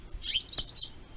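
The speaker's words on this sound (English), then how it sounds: "I love the seagulls." Seagulls give a quick run of high, bright calls that rise and then fall away over about a second. The birds sound fairly close and are heard alone, with no voices.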